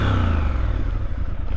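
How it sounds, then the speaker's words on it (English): A 2023 Triumph Scrambler 1200XE motorcycle engine revs, a loud, close, continuous throaty roar that holds steady with a rough, pulsing texture throughout, no voices. "I never get tired of hearing this bike sound."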